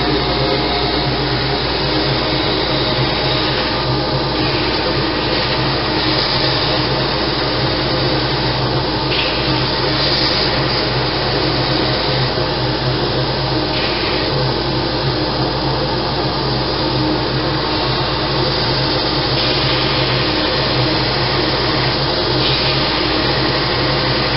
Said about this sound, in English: Now we'll grind her up. We start on the top edge